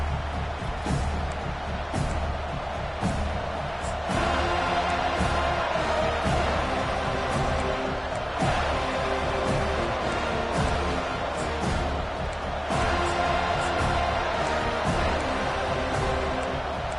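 A packed college football stadium crowd at a Florida State Seminoles home game roars around a kickoff return, a loud, dense, sustained wall of cheering and shouting that swells slightly partway through and never drops away.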